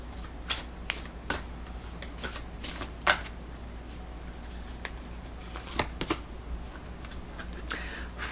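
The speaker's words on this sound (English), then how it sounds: "Let's pull some more cards." Tarot cards are shuffled and pulled, giving a run of sharp, close flicks and snaps at irregular intervals over quiet background, with no talking.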